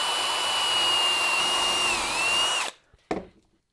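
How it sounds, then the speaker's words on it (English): A power drill whines steadily at high speed for a couple of seconds while drilling a hole through a plastic jig over a backer board, then stops, followed by a brief knock. "I'm going to drill the first hole right there."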